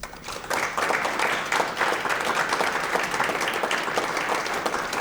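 A live audience claps steadily through a county budget announcement, the dense applause sustained and fairly loud for the full stretch.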